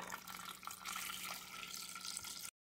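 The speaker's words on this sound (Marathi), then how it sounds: "आता यात मी गार पाणी घालून घेते।" Cold water pours steadily into churned milk that has split for homemade butter, making a continuous close splashing trickle that runs for a couple of seconds and then stops, with no talk.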